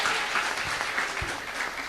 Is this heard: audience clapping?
yes